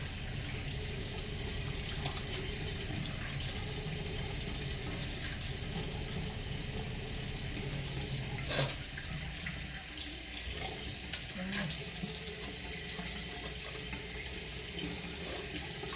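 Water runs steadily from a sink tap while someone rinses their face, with occasional light splashes over the constant flow.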